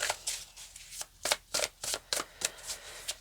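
Tarot cards shuffled by hand in a quick series of crisp riffling bursts, about a dozen short flutters at a fairly even pace, close and clear with no talking.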